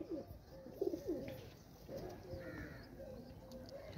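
A fancy pigeon being shown gives soft, low, rolling coos in a few short bursts, faint and close, in a quiet setting.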